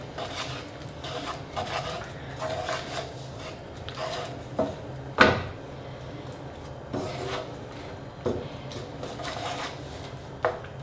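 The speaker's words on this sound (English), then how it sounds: "add a good dump of butter and give that a good stir in" A spoon stirring butter into a leek and bacon risotto in a pot, soft repeated scraping and rubbing with occasional sharp clinks against the pan, close and fairly quiet, with no talking.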